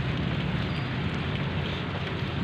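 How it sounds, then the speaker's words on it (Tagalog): Steady rain pours down outdoors as a dense, even hiss with no breaks, loud and continuous, with no voices. "Umuulan eh."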